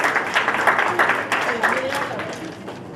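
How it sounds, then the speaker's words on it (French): A closing ceremony audience at a summer camp claps for guests, a brief burst of dense applause with a voice audible over it, fading slightly toward the end. "Je vous prie de les applaudir"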